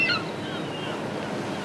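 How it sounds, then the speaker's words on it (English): A steady wash of surf rolls on without pause near Pompeii, a soft broad rushing with a faint wind edge and no voices. "enjoy the view, and listen to the sound of the waves"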